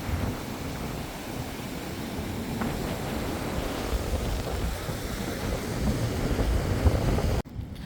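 Sea surf washes along the shore at Karkovalam, where a cut channel drains water into the sea, a continuous rushing wash mixed with heavy wind buffeting the microphone, ending in a brief dropout.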